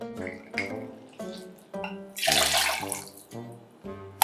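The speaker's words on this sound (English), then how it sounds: "And then we're gonna do 4 ounces of water." Four ounces of water, from a can of Liquid Death, poured into a Grog cocktail mixed with Navy strength rum and demerara syrup; a short splashing pour lasting under a second, heard over steady background music.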